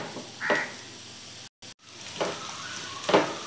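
Chopped onions sautéing in a pan for a coconut-roasted prawn dish, giving a steady soft sizzle with a few louder scrapes of stirring and a brief silent gap partway through.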